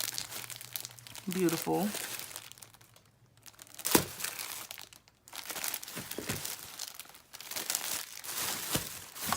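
Paper napkins crinkle and rustle up close as they are handled, in bursts broken by a brief pause, with a person talking over them.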